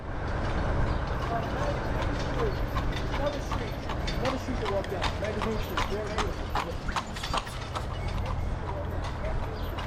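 Quarter horse hooves clip-clop steadily on pavement in a quick, even rhythm, with people chatting in the background and street noise around in New Orleans.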